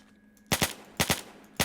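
Pistol gunfire in a Minecraft gun-mod battle: three loud bursts, each a quick pair of sharp shots, spaced evenly about half a second apart, with no voices.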